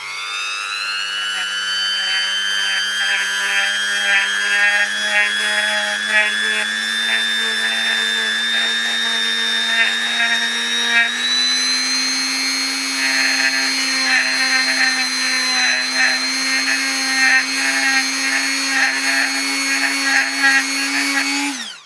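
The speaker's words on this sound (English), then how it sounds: "with my Dremel I'm going to grind away some of the leg here" A Dremel rotary tool grinds away the legs of a plastic action figure, a high, steady whine that rises slowly in pitch and runs continuously for about twenty seconds.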